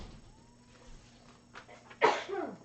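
A single sharp sneeze bursts out close by near the end, after a stretch of quiet background hiss, followed by a brief trailing snuffle.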